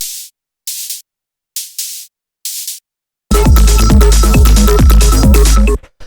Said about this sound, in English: And then we have these little noise blasts here, which sound like this.